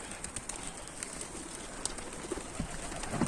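Pigeons from a rooftop flock fly low overhead, soft wing flutters and brief cooing heard faintly over open outdoor background noise, with no voices.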